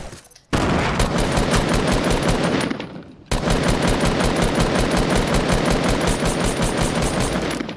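A silenced SCAR rifle in a shooter video game fires long rapid automatic bursts, loud and close, with a short pause between two sustained strings of shots.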